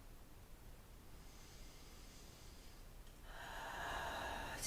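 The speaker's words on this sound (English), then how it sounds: "Breathing is deep." Deep breathing during a low-impact chair yoga session, heard as a soft, airy breath that swells into a long, louder exhale toward the end, close and alone without talk.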